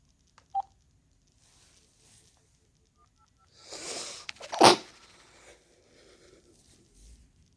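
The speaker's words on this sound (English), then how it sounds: "I sneezed." A single sharp sneeze bursts out mid-clip after a short beep, surrounded by near silence and faint rustling.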